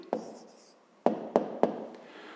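A pen writes an answer by hand on paper, a few quiet taps and short strokes at close range, faint and alone.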